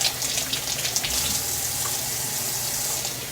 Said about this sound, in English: Just going to rinse them real quick. Always rinse your vegetables.